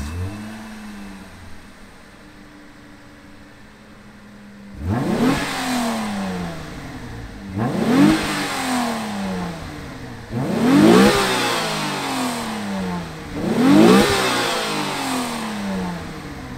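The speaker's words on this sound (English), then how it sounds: "let's fire up this FTO and hear what it sounds like." A 1994 Mitsubishi FTO's 2-liter engine cranks and catches after a quiet pause, then revs up in four repeated climbing bursts that fall back between each, close and fairly loud.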